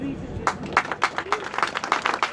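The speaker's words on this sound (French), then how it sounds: "Je veux que nous puissions les applaudir." A small group claps after a speaker finishes at the Lille braderie street fair, scattered hand claps building into brief applause.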